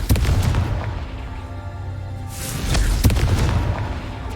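A Confringo spell explosion in the game Hogwarts Legacy, heard as a deep booming blast with a rumbling tail, then a second sharp burst, loud and close over steady game background sound.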